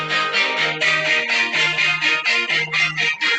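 A music track playing back in the Canva video editor on a phone, with a bright, steady rhythmic melody over a bass line and pulsing beat, clear and upfront, with no voices over it.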